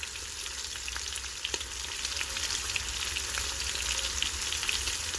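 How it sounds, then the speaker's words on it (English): Oxtail searing in a hot pan gives a steady, even sizzle of frying fat that stays continuous and fairly close, with a few faint crackles and ticks and no voices. "I do have a nice good sear on this oxtail"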